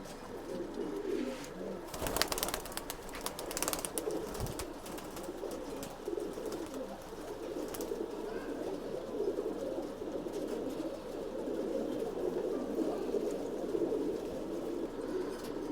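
Old-bloodline pigeons kept for sale in Bangalore coo softly and repeatedly, with a brief burst of wing flapping or clatter early on.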